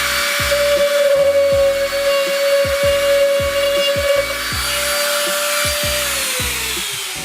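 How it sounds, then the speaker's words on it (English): A palm sander runs steadily on body filler over a BMW 135i clinched widebody kit, a loud continuous whine with rhythmic buzzing pulses, winding down near the end. "I'm gonna use the palm sander that I have to get a full even sand throughout"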